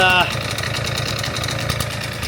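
A retro scooter engine runs steadily after thirteen years off the road, a smoky, oily-sounding idle that carries evenly from near the start, with a brief higher tone at the very beginning and chatter likely mixed in.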